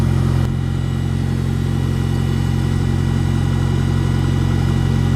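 Tractor engine pulling a brush hog in second gear: a loud, steady, close diesel drone with a constant low rumble and no break for the whole stretch.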